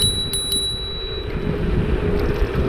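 A NAVEE N65 electric scooter's brake-lever bell dings twice in quick succession, a crisp double ring over continuous wind and traffic rumble.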